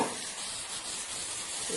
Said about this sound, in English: I'm literally just going to spray black paint down in there